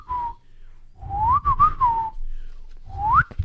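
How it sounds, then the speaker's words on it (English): A person whistles a few rising and falling melodic phrases, clear and close, with short pauses between them and soft room noise underneath. "I'm really good at whistling."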